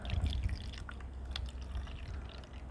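Bubble mixture poured from a small bottle into a faulty Chad Valley bubble maker: a faint, dripping liquid trickle over a steady low rumble, with no voices.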